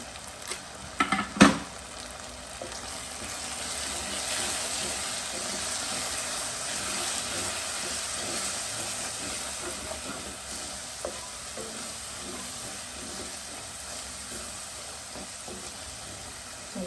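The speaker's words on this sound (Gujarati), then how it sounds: "મસાલા સરસ મજાનો શેકાઈ ગયા તેલની અંદર નાખી દીધો છે" Chilli powder, coriander, turmeric and garam masala fry in hot oil for a Kathiyawadi baingan bharta, giving a steady close sizzle with a few sharp clatters early on and light stirring throughout.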